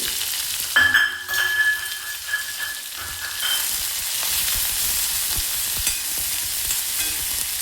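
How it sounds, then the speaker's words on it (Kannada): Garlic, curry leaves and chopped onion hit hot oil for an Andhra-style spinach dal, bursting into a loud sputter that settles into a dense, even sizzle with scattered crackles, close up and with no speech. "ಈಗ ಕರಿಬೇವನ್ನ ಸೇರಿಸ್ತಾ ಇದ್ದೀನಿ. ಹಾಗೆ ಈರುಳ್ಳಿನೂ ಸೇರಿಸ್ತಾ ಇದ್ದೀನಿ."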